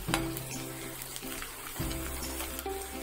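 Garlic and ginger fry in oil for lemon pickle, giving a steady close sizzle and crackle with occasional stirring clinks over a faint low hum.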